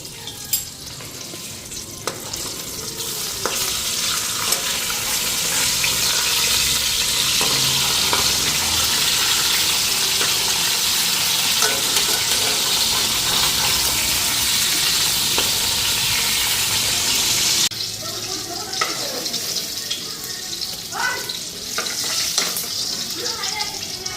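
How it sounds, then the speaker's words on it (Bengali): Fish fry in hot oil in a pan after being flipped, a loud continuous sizzle that eases slightly toward the end, with scattered spatters. "মাছগুলি এখন উল্টাইয়া দিই"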